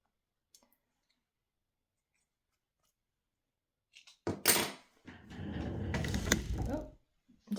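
Scissors snip away loose thread from a finished handmade kitchen scarf, a few sharp clicks and a short burst of cutting near the mic after a long quiet stretch.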